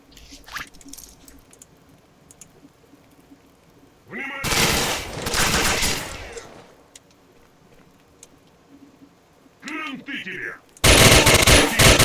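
Suppressed gunfire from a first-person shooter game, Oblivion Lost 2010, comes in loud dense bursts of rapid automatic shots, one long burst mid-clip and another at the very end, separated by quieter gaps with faint game ambience.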